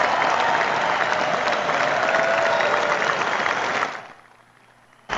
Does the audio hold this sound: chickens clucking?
no